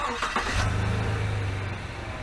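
A 2021 Chevrolet Silverado engine cranks and fires after its battery was recharged, a steady low engine drone settling into idle just after a brief start, fairly close and continuous with no talk.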